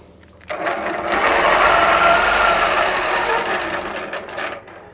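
A sewing machine stitches in free-motion quilting along a ruler, starting after a short pause and running as a loud, steady, fast whir before tapering off near the end.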